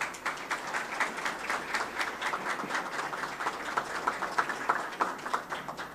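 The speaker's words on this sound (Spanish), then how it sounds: "Gracias por esa merecidísima ovación" An audience gives a sustained ovation at a public security strategy launch event in the Dominican Republic, dense steady applause throughout, heard from a moderate distance.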